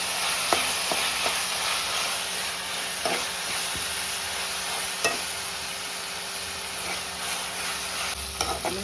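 Egg fried rice being stirred and mixed in a pan with turmeric and spices, a steady sizzle and hiss under faint scraping strokes, with a few sharper knocks scattered through.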